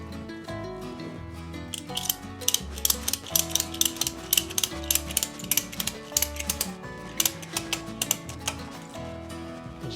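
A band clamp being tightened around a wooden rolling pin blank, producing a run of quick, close ratcheting clicks and ticks in an uneven rhythm over a faint background tone.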